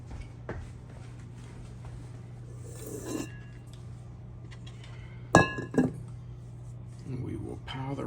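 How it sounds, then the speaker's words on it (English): Metal kitchen utensils clink and rattle as someone rummages for a spatula while making chocolate pie, with a few sharp clatters among quieter rustling and a steady hum behind. "I'm gonna grab my spatula here. See if I can find it."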